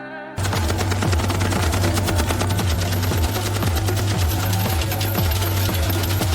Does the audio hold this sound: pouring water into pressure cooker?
no